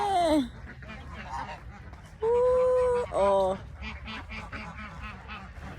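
Geese and ducks in a park honking and quacking in short bursts, with a person's voice exclaiming briefly between the calls.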